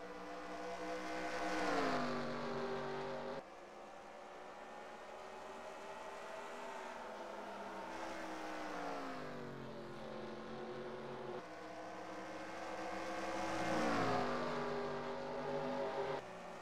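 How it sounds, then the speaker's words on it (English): Several NASCAR stock car engines in a racing video game at Dover, droning at low revs through the corners, their pitch sweeping down and back up in repeated waves, loud and continuous with no talk. "you hear the low RPMs coming through the corners"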